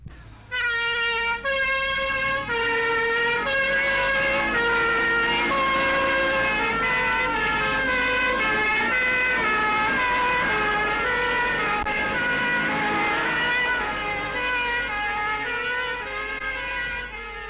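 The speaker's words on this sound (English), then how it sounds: "the emergency service vehicles, whether an ambulance or fire tender, are manned and on their way" Sirens from fire engines and ambulances in 1960s Barnsley rise and fall in a continuous, loud two-tone wail as emergency vehicles respond to a warehouse fire on Summer Lane, with no talking over them.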